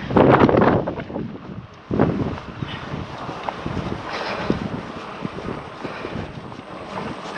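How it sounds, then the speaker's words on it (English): Wind gusts buffet a microphone during a bike ride, with a loud roaring blast at the start, another surge partway through, and steady rushing noise throughout. "I asked for a breeze, not a wind gust"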